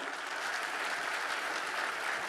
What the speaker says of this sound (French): je voudrais que vous applaudissiez très fort Pierre-Marie Yedot